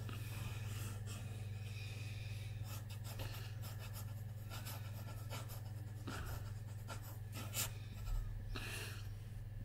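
A cheap fountain pen, costing about 75 cents, scratches softly across paper in short strokes and pauses, a faint close-up rasp over a steady low background hum.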